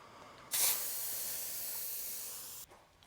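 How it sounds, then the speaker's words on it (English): Air rushes out of the valve of a dirt bike tire during a motocross tire swap, one sharp hiss held for about two seconds, close and steady before it cuts off. "So I'm gonna let a bunch of this air out of here."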